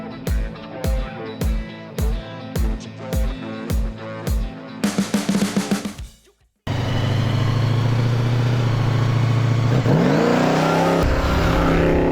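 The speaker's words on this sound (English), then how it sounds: "357 cubic inch small block Chevrolet" A custom 1964 Holden EH fitted with a 357 cubic inch small block Chevrolet V8 making 452 horsepower, revved in sharp repeated blips, then a short drop to near silence before a loud, sustained roar holds steady close by.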